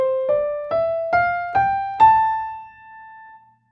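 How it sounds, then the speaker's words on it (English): A natural minor scale played as six clear ascending notes on a sustained, piano-like instrument, each struck evenly about half a second apart, the last note ringing out and fading alone. "The natural minor scale compared to the major scale has a lowered third degree"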